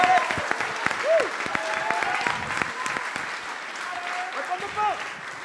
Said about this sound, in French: Je veux d'abord que tout le monde les applaudisse et se motive.